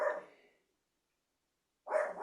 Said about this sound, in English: I apologize for the puppy barking there